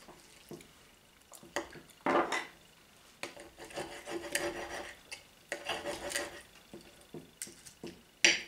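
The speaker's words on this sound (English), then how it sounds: "It's time to cut the steak." A knife saws through steak on a plate in short, irregular rasping strokes, each scrape a quick close scratch against the dish, with quiet pauses between cuts.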